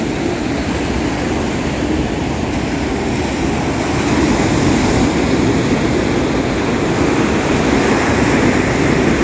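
Pacific surf rolls in continuously along the beach at Rincon Parkway, a loud, dense wash of breaking waves with a swell in intensity partway through, with no voices.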